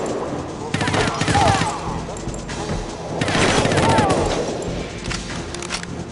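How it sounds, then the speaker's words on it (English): Sustained enemy gunfire in a James Bond video game, The World Is Not Enough, with bursts of automatic shots that rise and fall over several seconds amid busy game noise, with some talk underneath. "Oh, there's some people trying to shoot me."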